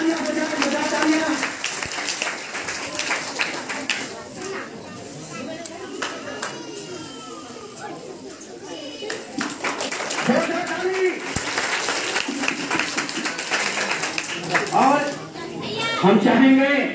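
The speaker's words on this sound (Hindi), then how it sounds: "छोटा तालियां हो जाए" A small crowd at an outdoor Christmas Day gathering at a church in Muzaffarpur gives scattered rounds of clapping amid constant chatter and children's voices, moderately loud and uneven, swelling again near the end.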